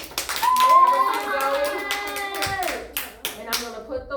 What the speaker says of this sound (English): Let's clap for everybody.